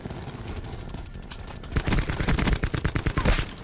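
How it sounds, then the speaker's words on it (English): Rapid bursts of automatic gunfire crackle in Black Ops 4 Domination multiplayer on the Jungle map, starting moderate and growing louder and denser partway through, with sharp repeated shots. "Oh, I'm getting shot!"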